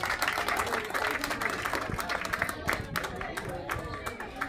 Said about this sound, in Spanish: El aplauso a la distancia igual para Maite.